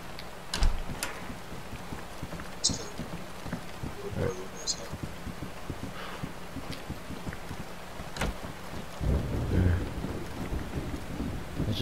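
Thunderstorm with steady rain in DayZ, a constant rain hiss carrying a few sharp cracks and low rumbles of thunder, some distant and one louder surge near the end.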